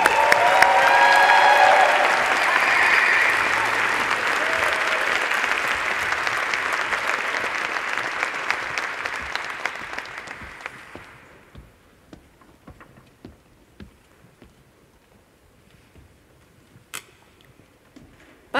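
Audience applause for engineering graduates at a 2022 graduation ceremony, a loud crowd clapping that gradually thins and fades after about ten seconds, leaving scattered single claps and quiet room sound.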